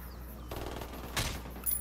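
A short burst of rapid gunfire crackles over a low background hum, followed by a sharper single blast near the end, in the game Tom Clancy's Ghost Recon Wildlands.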